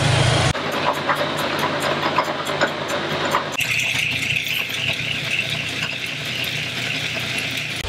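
An antique 1916 Sidney Universal Woodworker, belt-driven machinery in a workshop, runs with a loud, steady rattling drone and rhythmic clatter that shifts partway through into a smoother, higher whine, continuous and close.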